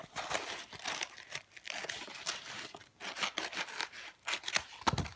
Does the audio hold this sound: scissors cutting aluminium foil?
yes